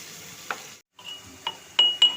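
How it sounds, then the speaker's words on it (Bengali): Onion paste ground on a stone slab fries in a pan, a faint soft hiss broken by a brief gap, with a few sharp utensil clinks near the end. "আমি পেঁয়াজটা ভেজে নেব"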